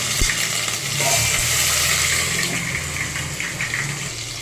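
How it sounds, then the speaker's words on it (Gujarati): Whole spices, cumin seeds and bay leaf fry in hot oil for a mixed dal, giving a steady, close, bright sizzle that hisses evenly throughout, with a single soft knock near the start and no talking. "તો આપણું તેલ એકદમ સરસ ગરમ થઈ ગયું છે તો આપણે આખો મસાલો પહેલાં એડ કરી દઈશું અને જીરું અડધી ચમચી એડ કરી દઈશું તેજપત્તા એડ કરી દઈશું"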